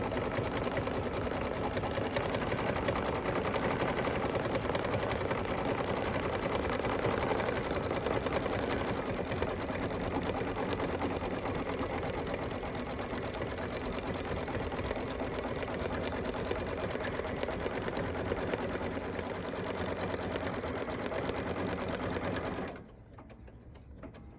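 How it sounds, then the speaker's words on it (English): A Baby Lock Solaris sewing machine stitches an appliqué, first zigzag then satin stitch, with a steady fast whirring hum close by that runs throughout before cutting off sharply near the end. "It does a little zigzag stitch around it first, and then it will come back and do the satin stitch."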